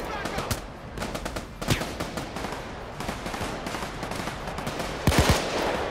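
Gunfire fills a Payday 2 shootout against police, with rapid bursts and single shots, loud sharp cracks over a busy background, and a heavy volley near the end.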